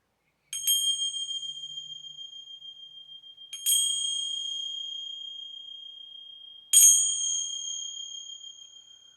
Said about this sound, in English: I'm going to ring some bells here.